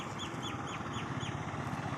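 A small sparrow-like bird calls in a quick series of short, repeated chirps over steady outdoor background noise beside a roadside planting of neem saplings.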